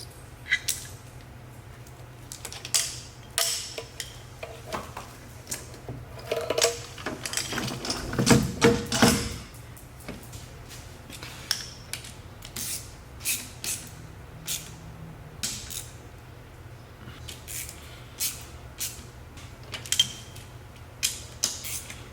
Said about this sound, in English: So let's go ahead and install the intake now.